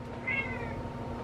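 A house cat gives a single clear meow of under a second, near and moderately loud over a low steady room hum, with no talking.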